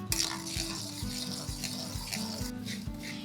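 Onion-tomato gravy with added salt being stirred in a pan, a soft wet sizzle with repeated scraping strokes of a spoon in a steady rhythm, close and alone.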